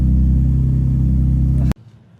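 A Nissan Z drift car's engine drones loud and close at a steady high rev, a thick rumbling roar that cuts off abruptly, leaving quiet low idle noise.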